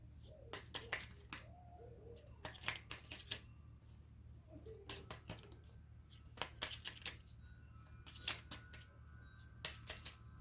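Small cards being shuffled by hand, quiet bursts of riffling flutters and soft slaps in irregular clusters, close up, separated by near silence.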